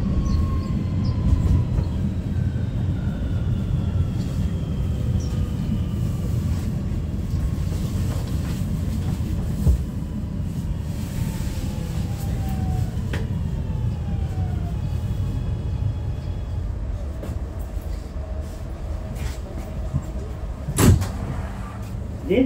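Inside an R211 subway train on the A line, steady rumbling track noise runs under rising and falling whines from the propulsion motors, with occasional clunks and a sharp rattle near the end.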